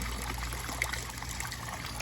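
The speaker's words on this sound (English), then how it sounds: "I can control the flow, slow it down to a trickle." Water trickles steadily through a valve in a backyard pond aquaponics setup with IBC filtration, a continuous soft babbling flow with faint splashes over a low background hum.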